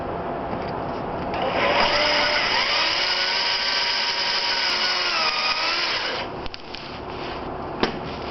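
A power drill whines steadily, drilling a pilot hole through the frame rail of a 1997 Ford Ranger 4x4, then winds down, followed by a couple of small clicks.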